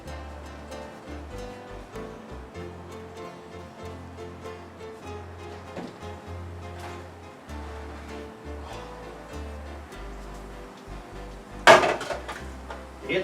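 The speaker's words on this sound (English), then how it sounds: "So let's pull it out, see what it looks like." A sheet pan of oven-cooked bacon is pulled from the oven: a single sharp metallic clank near the end rises over a steady low hum and faint kitchen rustling.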